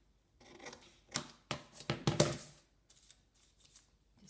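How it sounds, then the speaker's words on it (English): Scissors snip through a paper sewing pattern to cut out a dart, giving several crisp, close cuts in an irregular rhythm, with quiet paper rustling in between. "So, if you literally cut that dart out,"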